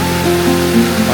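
Water rushing down a large rocky cascade near a village temple, a loud continuous roar with a steady hum running under it.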